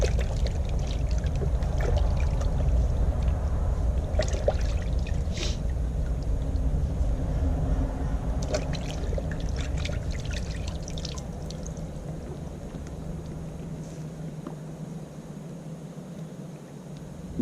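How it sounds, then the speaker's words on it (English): Running water pours steadily over a butchered quail being washed, a continuous close splashing trickle that fades slightly toward the end. "Now I'm going to give this a bit of a wash."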